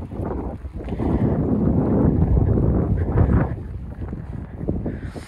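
Loud, gusty snowstorm wind roars and buffets the microphone at a winter campsite in a continuous low rumble, rising and falling without pause; no one speaks.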